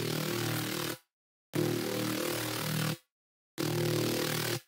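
Serum synthesizer bass, layered with a noise layer for extra movement, played as three sustained gritty bursts of roughly a second each, separated by abrupt silences.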